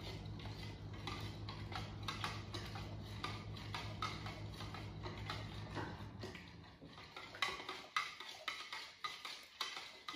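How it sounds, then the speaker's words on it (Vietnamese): A spoon stirs jello shot mixture to dissolve it, making quiet, rhythmic clinks and scrapes against the container, close and soft, with no talking. "Xong rồi mình sẽ khuấy khuấy cho nó tan đều luôn ha,"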